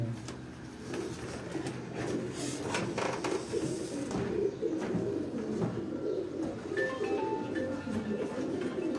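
Soft, low cooing of pigeons repeating close by, mixed with rustling, clatter and faint background noise.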